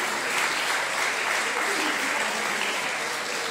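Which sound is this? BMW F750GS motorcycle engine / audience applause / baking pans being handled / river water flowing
audience applause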